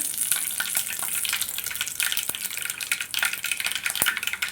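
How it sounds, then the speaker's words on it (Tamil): Mustard, cumin, fennel and fenugreek seeds sizzle and crackle in hot oil for a fish curry, a dense, close, steady frying hiss with scattered sharp pops. "எண்ணெய் காஞ்ச உடனே கொஞ்சமாக கடுகு, சீரகம் ஒரு பிஞ்சு, சோம்பு ஒரு 2 பிஞ்சு, வெந்தயம் எல்லாம் போட்டு தாளிச்சிட்டு"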